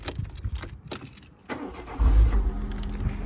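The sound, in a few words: Peugeot 207 car being switched on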